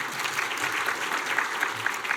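Applause from a church congregation at an evangelistic gospel meeting, steady and sustained across the moment, filling the hall at moderate loudness with no speech over it.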